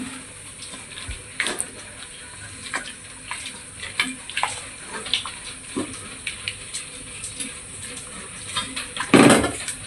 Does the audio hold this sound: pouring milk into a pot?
yes